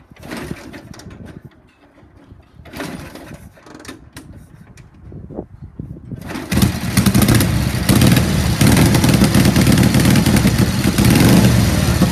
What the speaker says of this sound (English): Turn the ignition on and kick it over.